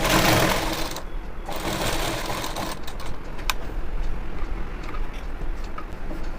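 A sewing machine stitches the waistband of gathered pants in a tailoring lesson, giving a fast, continuous, close mechanical whir with a brief pause near the start.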